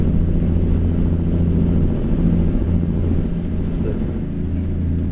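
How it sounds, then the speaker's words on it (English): Deep, steady rumble of a modded truck engine in American Truck Simulator, droning continuously at an even, loud level with low harmonic hum throughout. "The audio of this engine sounds awesome, and that's because of a specific mod."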